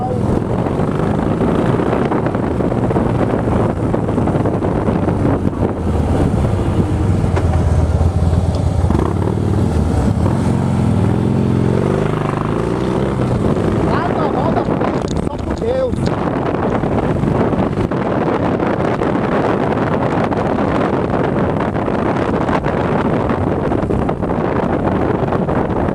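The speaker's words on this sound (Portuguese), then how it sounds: "vai dar pra captar bem o barulho da moto e tal" Steady motorcycle engine drone while riding, with heavy wind buffeting the microphone throughout; a voice talks faintly underneath.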